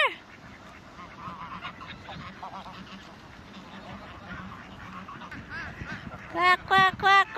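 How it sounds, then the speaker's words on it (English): Ducks at a park, scattered quacks and honking calls heard amid a busy outdoor background with people talking, ending in several loud, close quacks in quick succession. "There's so many ducks, come!"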